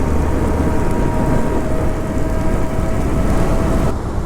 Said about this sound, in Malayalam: മഴ തന്നെ മഴ.